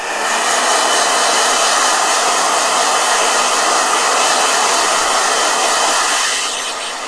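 A hair dryer blows with a loud, steady, hissing roar that holds constant for about seven seconds and eases off slightly at the end, with no voices.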